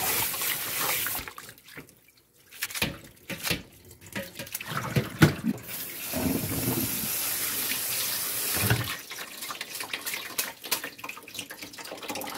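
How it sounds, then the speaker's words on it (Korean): Cold tap water runs into a kitchen sink while freshly cooked noodles are rinsed under it, a steady close splashing that breaks off briefly and then resumes with sloshing. "찬물에 헹궈 주겠습니다. 물 좀 부어주고요. 찬물로 충분하게 잘 이렇게 씻어줍니다."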